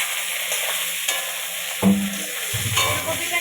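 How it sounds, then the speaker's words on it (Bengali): Cauliflower frying in oil in a home kitchen pan, a steady sizzle with a few clunks as pieces are stirred and moved around. "তা আমি আগে ফুলকপিটাকে ভেজে নেই।"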